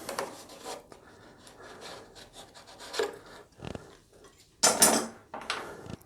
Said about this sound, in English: So I'm just going to start getting these clamps off.